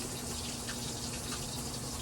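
Water trickles steadily from a weak-pressure tap into a container, a constant, even rushing that fills the whole moment without pauses or voices.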